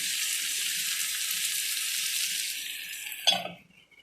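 Potatoes with turmeric and crushed coriander frying in a pan, a steady soft sizzle that cuts off near the end with a brief clatter as the lid goes on for covered cooking on low heat.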